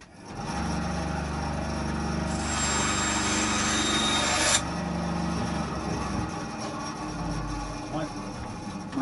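A small, rather poor bandsaw cuts a piece for a Harley Benton SC guitar build, giving a steady low motor hum with a higher whining cut in the middle that stops abruptly, then quieter workshop handling.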